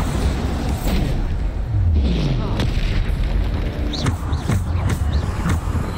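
Booming spell blasts and explosive impacts from the Bombarda curse in the Hogwarts Legacy video game, several loud bursts in quick succession over a dense battle mix with whooshing effects.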